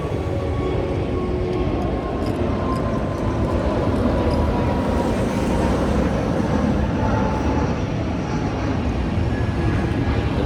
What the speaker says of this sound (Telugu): అదిగో గైస్ నా బ్యాక్ సైడ్ అవుతుంది ఫ్లైట్.